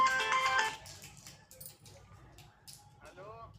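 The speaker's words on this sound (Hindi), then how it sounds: "और इनका फ़ोन आ गए हैं।" A phone ringtone sounds loudly for about half a second, then fades under quiet household background with faint voices and small clatters.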